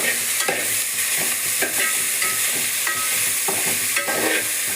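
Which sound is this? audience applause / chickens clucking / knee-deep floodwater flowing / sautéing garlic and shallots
sautéing garlic and shallots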